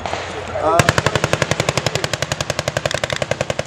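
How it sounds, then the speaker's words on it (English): A .50 caliber heavy machine gun fires a long sustained burst of rapid, evenly spaced shots, loud and close, after a brief moment of background noise, at a battle re-enactment. "That 50 caliber, you can hear the speed of that round, the rate of fire of that gun"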